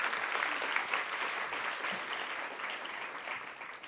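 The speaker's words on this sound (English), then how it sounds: "Let's have a round of applause to thank Microsoft for making this program possible" An evening tech executive roundtable crowd claps in thanks to a corporate sponsor, a full, steady round of hand clapping lasting a few seconds at fairly close range.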